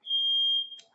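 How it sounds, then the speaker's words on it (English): A single sustained high electronic beep from a fire alarm, steady and fairly loud for most of a second before cutting off, heard alone in a quiet room. "Well, a fire alarm, isn't that special?"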